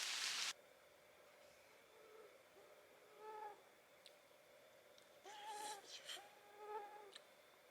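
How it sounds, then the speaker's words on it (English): Mosquitoes whine around a campsite along the Appalachian Trail, a thin steady buzz close to the ear with a few other outdoor calls and a brief rustle at the start; no one speaks. "The mosquitoes out here are pretty bad as well."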